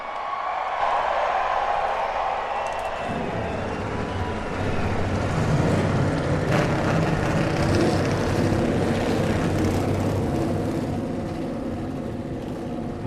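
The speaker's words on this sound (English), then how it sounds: "drivers, start your engines!" NASCAR stock car engines fire up together at the Dover one-mile track for the 2012 FedEx 400, a broad rumbling roar that rises around three seconds in and holds steady and loud to the end.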